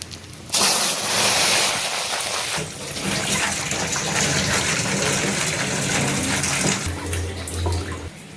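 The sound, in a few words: pouring water into melted sugar for Christmas cake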